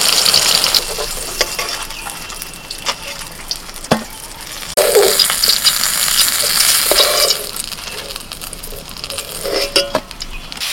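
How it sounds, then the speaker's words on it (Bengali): Eggplant pieces rubbed with salt and turmeric fry in hot oil, giving a steady close sizzle with bursts of louder spitting and a few scrapes and clinks of stirring. "বেগুনে লবণ হলুদ মাখিয়ে নিয়েছি, এবার ভেজে নেব।"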